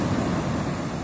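Sea waves wash onto the shore in a steady, close rushing surge with a windy roar throughout and no voices.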